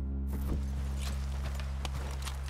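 Horses walking in Red Dead Redemption 2 give a few soft clip-clop hoof steps, faint and spaced out over a steady low hum.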